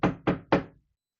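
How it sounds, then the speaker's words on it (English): Three quick, evenly spaced knocks on a door, close and clear, followed by silence. "I thought I heard someone knock on the door."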